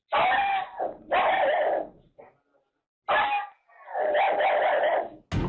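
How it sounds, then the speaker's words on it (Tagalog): Household dogs erupt into loud howling and barking in the dead of night around 3 a.m., two long drawn-out bursts separated by a short quiet gap, close and intense. "bigla raw pumalulong ang kanilang mga aso"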